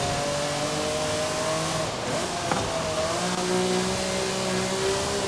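A supercar in Forza Horizon 5, its engine droning loudly and steadily with sustained revving while driving across a field, with a tire scrub partway through.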